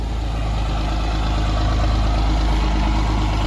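A tractor engine runs steadily and loudly up close, a heavy low idle-like rumble with constant drone and no voices.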